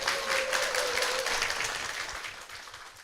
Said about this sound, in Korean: 아내 박미연 집사님과 아들 김서준 군 박수로 모시겠습니다.